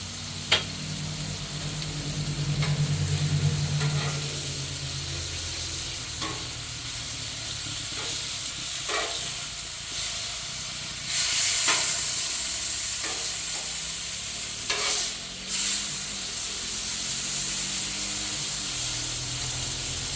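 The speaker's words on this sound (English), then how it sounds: "I'm just going to throw some Irish butter up on here." Irish butter sizzles and fries steadily on a Blackstone griddle alongside steaks, a continuous close hiss with occasional scraping and stirring clicks, and no talk.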